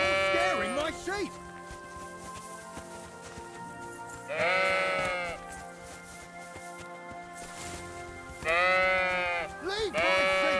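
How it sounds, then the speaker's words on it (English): Sheep in a medieval pasture in the video game Kingdom Come: Deliverance II bleat loudly in three bursts, each a wavering call, separated by quieter stretches with a steady background drone. "You're scaring my sheep."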